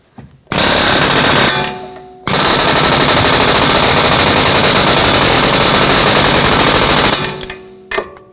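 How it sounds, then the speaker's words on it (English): An air chisel fitted with a hammer head rattles hard against the front strut of a Volvo S60, in two long, very loud continuous bursts separated by a short pause, then a few brief taps. "I'm personally going to use an air chisel with a hammer head on it"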